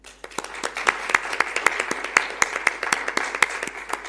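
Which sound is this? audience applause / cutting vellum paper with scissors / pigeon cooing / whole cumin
audience applause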